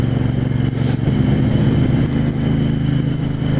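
A 1974 Moto Guzzi 750S motorcycle rumbles steadily at riding speed, its loud, close engine note holding a deep, even drone throughout with no voices.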